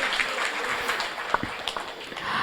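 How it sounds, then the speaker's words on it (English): Audience applause at a refugee Australia Day celebration, a steady broadband clatter of many hands clapping that carries on through the whole stretch with a few sharper claps standing out. "I think you should give yourselves a huge round of applause"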